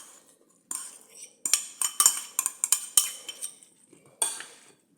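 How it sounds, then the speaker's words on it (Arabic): An onion mixture with herbs being stirred in a pan with a metal spoon: irregular clinks and scraping strokes in short bursts, close and fairly quiet, with pauses between. "غادي نخلطو مزيان."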